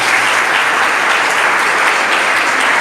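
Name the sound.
congregation applauding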